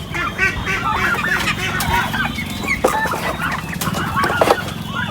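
Nine turkeys on a farm gobble and cluck continuously, close and busy, a dense chorus of overlapping calls with no pauses.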